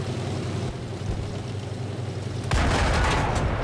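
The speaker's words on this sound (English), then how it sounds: "I don't want to miss any shots, so getting close before I start firing." A T71 light tank's cannon fires once in a tank combat video game, a sudden loud blast that stays as a dense roar over a steady engine rumble.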